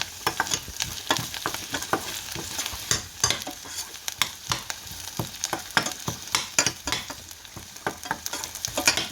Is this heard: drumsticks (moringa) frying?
yes